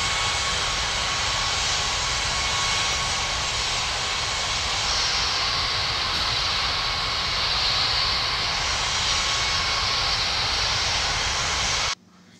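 A fixed-wing airliner roars steadily at a busy international airport as it takes off, the jet engine noise loud, broad and continuous for about twelve seconds before cutting off abruptly.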